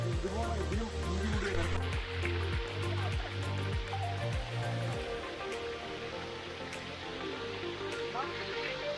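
A small stream at a little-known waterfall near Kottayam, its flow splitting into two channels, gives a steady broadband rush of running water throughout, heard beneath ongoing talk.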